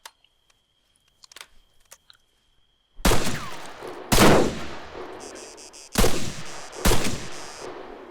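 Rifle rounds in ArmA 3 striking and ricocheting off a stone wall: four loud, sharp impacts with whining ricochet tails, spaced unevenly after a few seconds of near silence.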